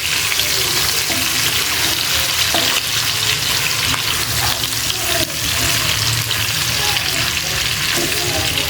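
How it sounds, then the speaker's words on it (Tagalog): Pork adobo sizzles and fries steadily in a wide pot, a loud, close, continuous crackle with occasional pops and stirring scrapes, and no talking over it. "Kumalamsik siya, kumalamsik. Kumalamsik na guys."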